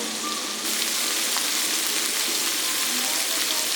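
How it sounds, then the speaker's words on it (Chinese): Doubanjiang with soy sauce, oyster sauce and a little cooking wine stir-fried in a hot wok, giving a loud, continuous sizzling hiss with light clatter. "翻炒均匀"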